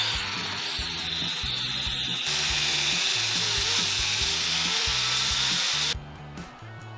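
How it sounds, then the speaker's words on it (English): Flap disc on an angle grinder smoothing weld seams on a metal railing, a loud steady whirring grind with a harsh hiss that runs continuously for about six seconds before winding down. "let's clean it up with the flapper disc"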